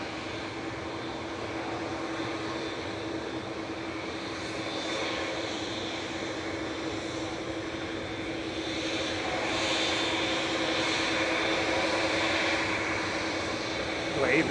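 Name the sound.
jet airliners lining up on runway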